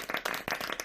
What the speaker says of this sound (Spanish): os pediría un aplauso para José Luis